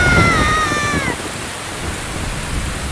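Thunderstorm rain in Ocarina of Time, a steady hiss of falling rain with a low rumble, loud and continuous, with a short tonal melody fading out in the first second.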